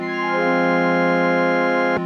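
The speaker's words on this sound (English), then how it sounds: "but with the color box, it sounds like this." An Omnichord run through a Color Box for saturation, with upper mids boosted and bass cut, plays a bright sustained chord with dense harmonics, loud and steady for two seconds before cutting off sharply.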